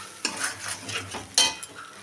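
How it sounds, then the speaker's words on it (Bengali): A spatula stirs spices frying in oil in a pan, making several quick scrapes and clinks over a light sizzle, with one sharper scrape standing out midway. "এটা একটু ভাজা ভাজা হয়ে গেলে তারপরে আমি টক দইটা দেব এটা একটু নাড়িয়ে নেব"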